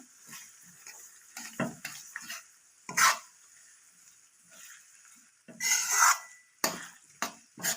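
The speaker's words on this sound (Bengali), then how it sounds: "এবার যে গোটা আমলকিগুলো রেখেছিলাম এইগুলোও আমি তেলের মধ্যে দিয়ে দেবো" Whole Indian gooseberries (amla) dropped into oil in a pan and stirred, with intermittent clattering knocks and metallic scrapes over a faint sizzle and quiet gaps between.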